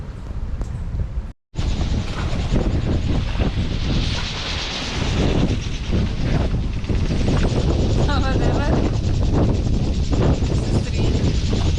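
Strong wind buffeting a microphone on a sailing boat voyage, loud rumbling gusts that go on almost without pause after a brief dropout, with voices talking underneath.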